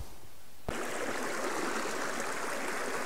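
A creek at the bottom of a wooded home site in Weaverville, North Carolina, flows with a steady, full rushing wash that begins abruptly and continues unbroken, close and fairly loud, with no talk.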